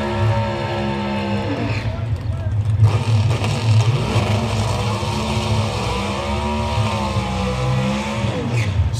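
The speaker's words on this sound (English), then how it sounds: "Start with the burnout to get those giant Goodyear slicks hot and as sticky as they could possibly be." A drag racing car does a burnout at ZMAX Dragway in Charlotte to heat its giant Goodyear slicks, with a loud engine roaring and shifting pitch throughout while a voice talks over it.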